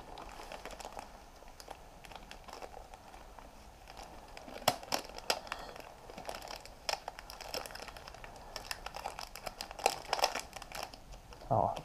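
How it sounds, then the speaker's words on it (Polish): Thin plastic film bag crumpled and crinkled by hand while wrapping a disconnected part during engine-removal prep on a KTM EXC-F motorcycle, a steady close rustle with sharper crackles throughout. "Zaraz to wezmę w jakąś torebkę foliowo."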